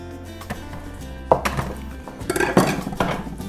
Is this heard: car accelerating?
no